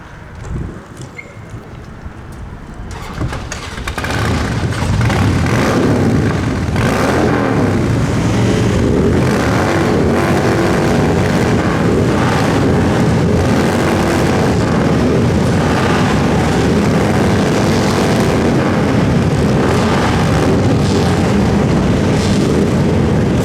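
A group of motorcycles revs together in tribute at a commemoration of the 85th anniversary of the June uprising in Lithuania, starting quieter and then swelling into a loud, sustained, dense engine roar that holds steady.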